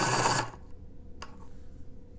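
An AFMAT electric pencil sharpener grinds a pencil with a brief loud whir that cuts off, followed by a single click and quiet.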